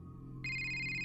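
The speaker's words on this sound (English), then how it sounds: "But then her phone rang." A phone rings as a sound effect: a bright electronic ringtone tone bursts in partway through, sustained and pulsing, over a low steady background hum.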